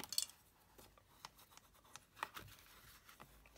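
A bone folder creasing paper card for a pop-up Christmas card, a faint, close run of soft scraping and rubbing strokes in a quiet room.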